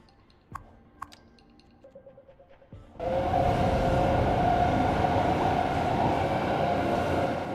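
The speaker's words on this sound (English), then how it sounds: "Alright, there it goes, using the train line." Train running on a line in a city-building game: a few sparse clicks and small knocks, then a sudden loud, steady rumble with a droning tone that carries to the end.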